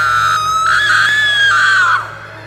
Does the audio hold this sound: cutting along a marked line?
no